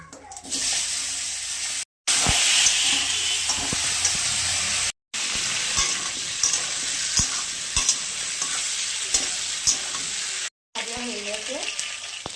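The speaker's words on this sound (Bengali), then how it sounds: "এবার আলু আর মূলগুলো ভেজে নেব" Potatoes and radish frying in hot oil with dried chilli and cumin for a Bengali fish curry, a loud steady close sizzle with stirring clatter, broken by a few brief gaps.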